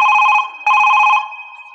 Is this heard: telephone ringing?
yes